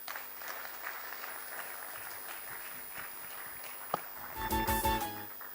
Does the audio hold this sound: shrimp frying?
no